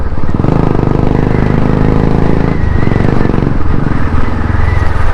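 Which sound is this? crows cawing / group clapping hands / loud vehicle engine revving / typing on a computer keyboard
loud vehicle engine revving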